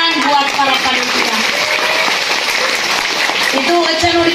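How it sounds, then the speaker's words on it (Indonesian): Applause rises for the committee at a large religious gathering, a busy blend of clapping and crowd chatter with cheering voices layered over it, loud and continuous throughout. "tepuk tangan buat para panitia"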